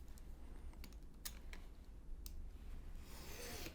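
A cardboard box is cut with a faint, close, steady scraping rasp, broken by a few small clicks and taps.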